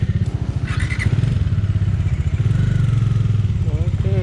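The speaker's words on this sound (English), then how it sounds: "I like the sound, man. I like the exhaust." A Bajaj Dominar 400 motorcycle's exhaust on a ride toward Arunachal, a steady close throbbing engine note with a brief clatter early on and a voice talking over it.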